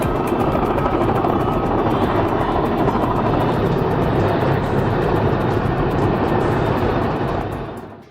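The world's biggest heavy-lift helicopter, lifting a passenger jet, fills the air with heavy rotor thump and engine roar, continuous, loud and close, then beginning to fade at the very end.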